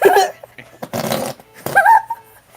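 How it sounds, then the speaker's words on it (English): A handheld toy blurts out comical fart noises in a few short, loud, close bursts with brief gaps between them, one ending in a rising squeal, and no talking alongside. "it's like a thing that makes fart noise"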